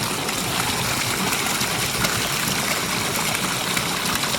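Water running off the rocks of a pondless waterfall and splashing down into a hole, a steady, close, unbroken rush and trickle with no voices.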